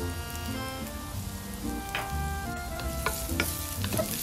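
Chopped garlic and hot pepper flakes sizzle in hot olive oil in a pan, a steady, close frying crackle with stirring scrapes and scattered sharp pops throughout.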